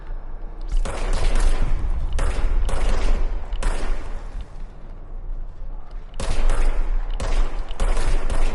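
Sustained gunfire in the video game Control, loud and dense volleys of shots pouring out in long bursts with short breaks and no talk over them.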